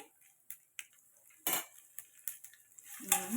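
Spoon scraping and clinking in a pan of tempering spices (chana dal, urad dal, cumin, mustard seeds, dried red chillies), with sparse knocks and light sizzling, close and fairly quiet, no voices.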